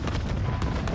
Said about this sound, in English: Enemy armor on the deck, hit him with a missile.